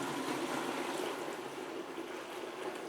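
Liquid for an apple mead, or cyser, is poured into a fermenter, making a steady rushing splash that holds evenly throughout, close and fairly loud.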